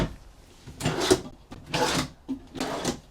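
Dresser drawers in a 2026 Venture Stratus 262VFK travel trailer bedroom sliding open and shut, three close, brief wooden rasps about a second apart.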